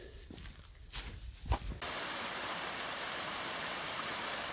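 Running water of a stream at the bottom of St. Mary's Vale woods near Sugar Loaf in Bannau Brycheiniog: a few footsteps and rustles, then a steady, close rushing hiss of flowing water continues alone.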